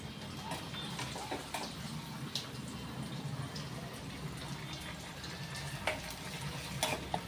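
Onion and curry leaves fry with a steady sizzle in a pan, stirred continuously with scattered scrapes and clinks, close and fairly quiet.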